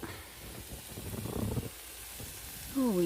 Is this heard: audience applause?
no